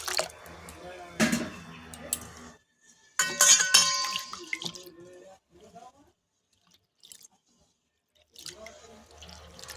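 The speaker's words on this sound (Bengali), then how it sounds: "জলটা ফেলে দিয়েছি, আমি আরও একবার ডালটা ধুয়ে নেব।" Moong lentils are rinsed in water in a kitchen while making moong dal with prawns. There are brief bursts of splashing and sloshing separated by quiet gaps.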